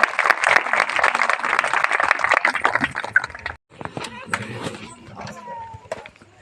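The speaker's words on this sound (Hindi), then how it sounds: "ताली बजा दीजिएगा।" Guests at a village Christian wedding clap in a dense burst for about three seconds, then the clapping thins to scattered claps and children's voices as people talk nearby.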